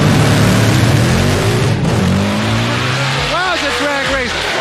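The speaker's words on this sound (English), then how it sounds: "This is going to be a great drag race." Drag race cars roar down the track at an event, loud sustained engine noise with shifting revs and sweeping pitch changes, crowd and commentary voices mixed in throughout.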